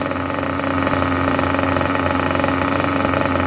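A nitro model engine mounted on a break-in stand idles steadily and loudly, a smooth continuous buzzing drone with fine vibration that holds unchanged throughout.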